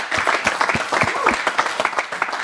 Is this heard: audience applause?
yes